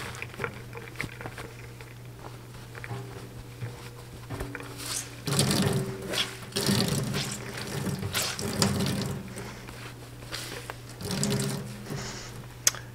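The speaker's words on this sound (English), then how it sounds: "So I want to get the water out right now, so there's room to put some hot water in it." Water draining and trickling out of wet felt while a hat is being made over a resist, heard as irregular splashes and dripping patter in several bursts over a steady low hum, fairly faint.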